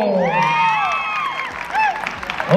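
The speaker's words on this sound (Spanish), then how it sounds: "Si usted decide que el participante número 3 es el ganador, dígalo con el aplauso" At a shouting contest, the crowd claps, cheers and whoops for contestant number 3, with high shrieks and yells riding over scattered applause in a loud, lively burst.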